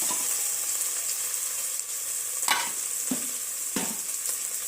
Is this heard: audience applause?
no